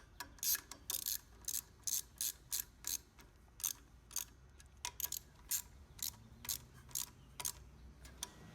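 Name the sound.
bolts being tightened to secure wiring cover on frame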